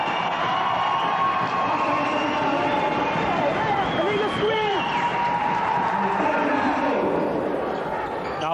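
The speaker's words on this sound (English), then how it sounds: "The crowd on their feet." A basketball crowd at an under-19 cup final between Neptune and Delta cheers and roars loudly and continuously, with shouting voices and some sneaker and ball noise mixed into the din.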